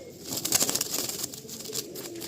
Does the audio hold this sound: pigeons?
yes